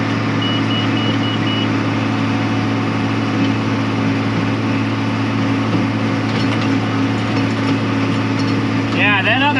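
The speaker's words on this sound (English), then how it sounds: "that other tractor Greg just went by on, that's a 4240 valve, power shifted" A John Deere 4240 power-shift tractor driving past in a hay field, a steady loud engine drone with constant rumble throughout, close to the listener.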